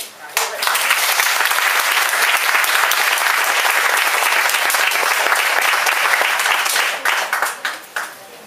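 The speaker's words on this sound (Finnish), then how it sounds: "Annetaan aplodit." A concert audience in Helsinki bursts into loud, sustained applause for the artist, a thick roar of clapping that holds steady for several seconds before thinning into a few scattered final claps.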